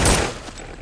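A single short burst from the B228 weapon in Counter-Strike: Condition Zero Deleted Scenes, a sharp loud report at the start that quickly decays into a fading tail.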